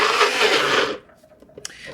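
A high-powered blender pulses with a loud, dense whir for about a second, then cuts off abruptly, leaving quiet with a few faint clicks.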